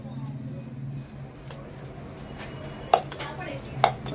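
Soaked soybean chunks tossed with spices in a bowl, giving a quiet rustle and a couple of sharp utensil clinks against the bowl near the end, under a low steady background hum while someone talks.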